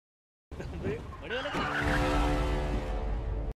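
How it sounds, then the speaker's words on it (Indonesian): A car skids to a stop in an Indian film scene: a loud tire squeal rises sharply and holds steady for about two seconds, with engine rumble beneath it, then cuts off. "tiba-tiba seorang wanita bernama Maya datang dan memberhentikan mobil mereka."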